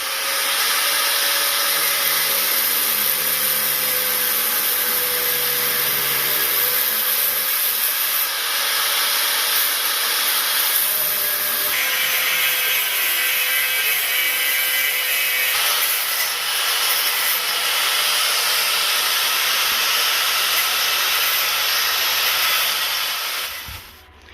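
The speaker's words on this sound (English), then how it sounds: "First step is you got to grind this little button head off and take off this clamp." An angle grinder cuts off the button head of a bolt on a truck's suspension clamp while traction bars are being installed, a loud continuous close grinding whine with broadband hiss that holds steady for over twenty seconds without talk.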